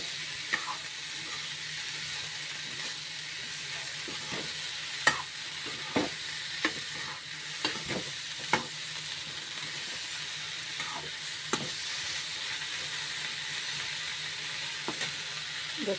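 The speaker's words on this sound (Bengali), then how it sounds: "দেখতে পাচ্ছ এদিকে সবজি ফ্রাই হচ্ছে" Vegetables, cauliflower and potato, fry in a pan with a steady broadband sizzle, punctuated by occasional sharp clicks of a spatula stirring, close and moderately loud, no talk.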